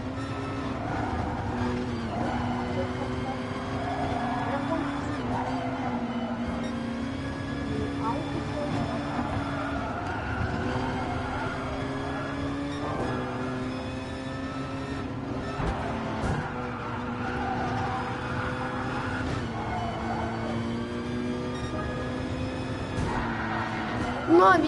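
Race cars in a video game: a continuous droning engine whine with shifting pitch, steady and moderately loud, while a voice talks over it.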